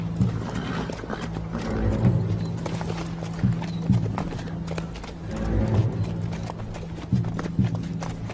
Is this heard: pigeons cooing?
no